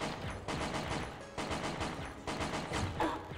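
Gunfire in the Pixel Gun 3D video game: rapid bursts of automatic shots in several rattling volleys, fairly quiet and distant, with short gaps between bursts.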